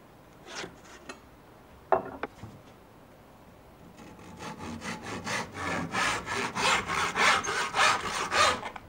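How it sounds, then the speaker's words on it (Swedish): A hand saw cuts through a 3 mm strip of birch veneer, with a few scattered knocks first, then a steady run of rhythmic back-and-forth strokes that grow louder and closer toward the end. "Så jag ritar på med vinkelhake och så sågar jag av den."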